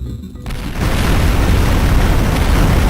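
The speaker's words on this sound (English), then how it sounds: "So that's actually what those pipe bombs do. They create giant explosions, basically." A pipe bomb set off underwater in a video game, a sudden deep boom swelling into a loud, sustained roaring rumble that holds steady without fading.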